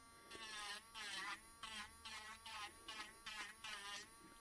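Electric sanding machine smoothing excess resin off handmade jewelry pieces, a steady close buzzing whine that swells and dips in repeated pulses as the piece is pressed and lifted.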